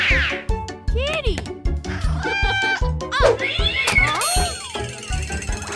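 Cartoon cat meowing, a rapid series of loud, bending meows and yowls over a bouncy backing track, with a voice exclaiming along.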